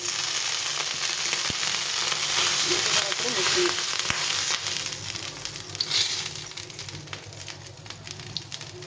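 Oil and water sizzle loudly on a hot nonstick tawa, a dense crackling spatter that swells and then eases, with occasional sharp pops and a light knock.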